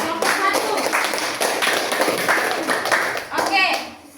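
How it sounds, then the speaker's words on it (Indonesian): Classroom students clapping for a student group after a presentation, uneven bursts of hand claps at moderate level with children's voices mixed in. "tepuk tangan untuk kelompok"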